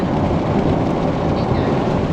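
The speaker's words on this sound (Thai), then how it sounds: "ฝนมาตกเลย" Rain falls heavily on the road during a trip through Laos, a loud, dense, continuous wash of rain and rumbling without a break.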